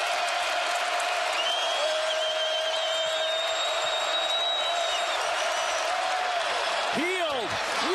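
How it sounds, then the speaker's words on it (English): A basketball crowd at Hilton Coliseum roars steadily with cheering and whistles throughout, loud and sustained, while an announcer speaks over it and sneakers squeak near the end. "That has sparked this crowd at Hilton Coliseum."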